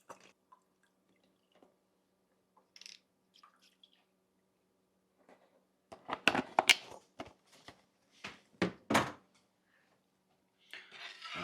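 Liquid being mixed into a cranberry turkey glaze in a pan: a quiet start with scattered small taps, then a burst of wet sloshing, squishing and spoon-on-pan clinks in the middle and near the end.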